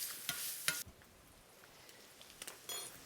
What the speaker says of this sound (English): Continue to stir and brown the meat.